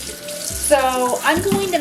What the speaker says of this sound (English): I'm just covering it with water.